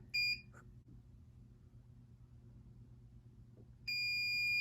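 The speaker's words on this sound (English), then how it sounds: "So that's the timer." A heat press timer beeps while a sublimation phone case is pressed: a short bright beep at the start, then a low hum, then a steady tone returning near the end.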